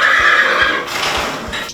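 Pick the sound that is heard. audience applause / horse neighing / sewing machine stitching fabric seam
horse neighing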